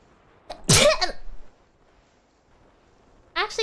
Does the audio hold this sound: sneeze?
yes